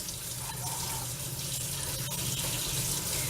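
A kitchen tap runs cold water over freshly cooked potatoes, a steady, loud rushing splash that continues without a break.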